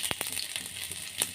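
Momos fry on high heat in a soft, faint sizzle. A few quick crackling pops break the short, quiet stretch.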